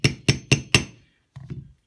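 A hammer fitted with a Delrin insert taps a pin into a Sig Sauer P365 slide, striking four evenly spaced sharp knocks followed by two softer taps after a brief pause.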